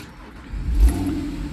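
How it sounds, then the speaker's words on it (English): A 2009 Porsche Boxster S 3.4 PDK (987.2) with a flat-six engine starts up, its low rumble swelling into a brief rev and then settling into a loud, close idle. "Get that very classic flat 6 sound, Mezger sort of sounding engine, which is very nice."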